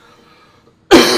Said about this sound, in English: I think I got the cough out